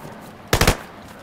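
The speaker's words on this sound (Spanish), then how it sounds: "¿Lo escuchaste el disparo?" A short burst of about three rapid gunshots in a PlayStation video game, loud and close, standing alone against quiet game ambience.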